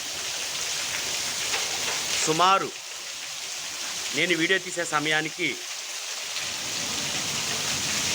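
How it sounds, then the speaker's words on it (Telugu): Heavy unseasonal rain falling steadily around a home in Eluru district, a dense even hiss that runs throughout, with a person talking over it in the middle. "అరగంట క్రితం నుంచి వర్షం పడుతూనే ఉంది"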